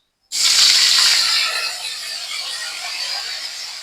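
Ginger and cumin paste hits hot oil in a pan with a dried red chilli and bay leaf, bursting into a loud, close sizzle that settles into a steady hiss.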